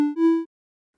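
Two short synthesized notes for a puzzle game melody sound in quick succession: a brief clean tone, then a slightly longer second note that stops abruptly and is followed by silence.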